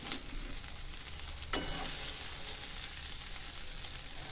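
Steamed cabbage muthiya sizzle and fry in a Gujarati tempering with turmeric, a soft continuous crackle with a brief stirring scrape partway through.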